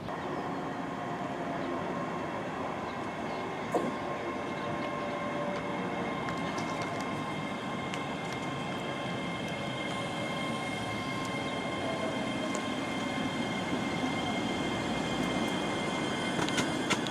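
A train at Carluke station in Scotland rumbles steadily throughout, a continuous loud wash of wheel and engine noise with faint higher squeals and clanks near the end.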